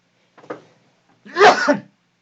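One person coughs twice up close: a short, light cough, then a pause, then a louder, rougher cough.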